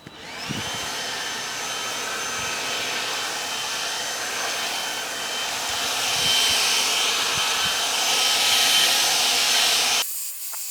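A lightweight Stihl battery leaf blower, about 3.8 pounds, runs in one continuous loud, airy rush with a slight rise in intensity partway through, then cuts off abruptly near the end.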